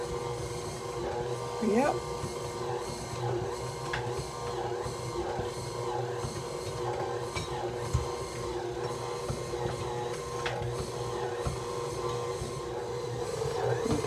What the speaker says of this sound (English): While the mixer is going.